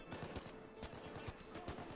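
Rapid automatic fire from a new rifle in a heist shooting game, a fast steady stream of loud close shots with sharp bursts punching through.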